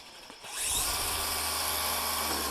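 A DeWalt DCMST561N cordless brushless string trimmer starts after a soft click and settles into a steady, close electric whir at its lower speed setting, running alone without talk.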